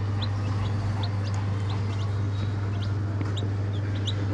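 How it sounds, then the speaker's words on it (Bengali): Three young chicks peep in short, high chirps scattered across a steady background hum, with occasional soft clucks nearby. "দেখো আমার তিনটা মুরগির ছানা কত কিউ"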